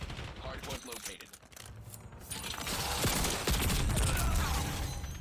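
Call of Duty multiplayer gunfire during a Hardpoint match, a dense burst of automatic fire building from choppy shots into sustained loud shooting with mechanical clatter, over game noise.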